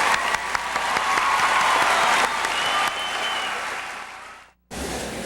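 A large audience at a 1997 college commencement applauds, dense steady clapping close by that fades out toward the end before a short pause and a second burst.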